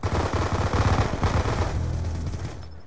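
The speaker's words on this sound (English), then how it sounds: "Yeah, very accurate submachine gun, high rate of fire." A submachine gun in Black Ops 2 fires an accurate, high-rate burst, a dense rapid rattle of close shots for about two seconds that then tapers into a lingering tail.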